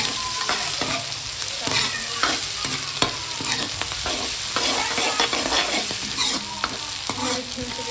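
Onions frying in a pan, with a steady sizzle broken by repeated spatula stirs and scrapes at an irregular rhythm, close and moderately loud.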